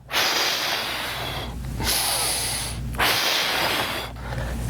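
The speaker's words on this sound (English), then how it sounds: "you're blowing the air out as you're contracting the abdominals" Three long, forceful breaths blown out through the mouth during abdominal crunches, each a loud close hissing rush of air with short pauses between, and no speech.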